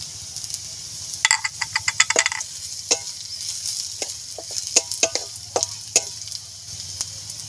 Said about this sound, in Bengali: অল্প অল্প ভাজা হয়ে যাওয়ার পর দিয়ে দেবো জিরে।